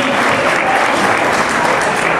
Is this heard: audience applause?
yes